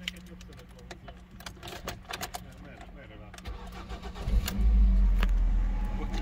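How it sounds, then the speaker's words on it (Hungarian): A petrol 2008 Ford Mondeo 2.0 is heard with a few clicks and key sounds, then the engine cranks and catches about halfway through, settling into a loud, steady idle. Someone talks over the start. "akár csináljuk azt, hogy beindítjuk."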